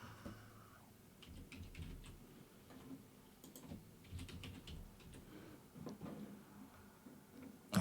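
Keys clatter in irregular bursts on a computer keyboard as a visa application form is filled in, with quiet, close clicks and short pauses between them.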